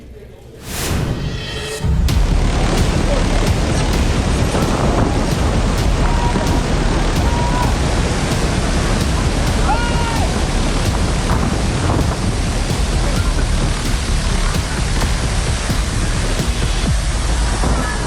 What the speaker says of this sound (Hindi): गरजती लहरों में ये जिंदगी बनाम मौत की जंग है।